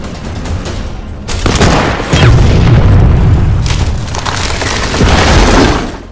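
Mortar explosions in a World War II battle scene between Soviet and German forces, with tanks nearby: loud, rumbling booms roll on and mix with bursts of gunfire, dense and sustained throughout.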